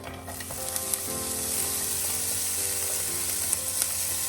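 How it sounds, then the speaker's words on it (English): Onion frying with rosemary in a hot pan, a loud, steady sizzle building slightly in intensity with occasional sharp crackles and light stirring taps, close up and alone. "Once it's heated up a little more, I'm gonna add half of my onion"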